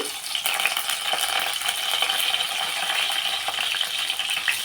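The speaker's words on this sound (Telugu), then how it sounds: "ఇప్పుడు మనం ఇందులో వెల్లుల్లిపాయలు వేసుకుందాం ఫస్ట్" Garlic cloves sizzle steadily in hot oil in a pan while cabbage and coconut fry is prepared, a dense continuous crackle with faint clinks, close and alone without talk.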